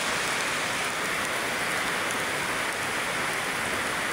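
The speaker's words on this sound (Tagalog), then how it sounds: "Lakas ng ulan." Heavy rain pours steadily at a construction site, a dense, loud, unbroken hiss of drops striking surfaces close by, with no talking.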